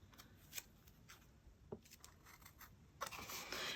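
Scissors trim excess paper from a handmade tag journal, making faint, soft snips and crisp paper rustles spread unevenly across the moment, close and quiet, with a slightly louder crinkle toward the end.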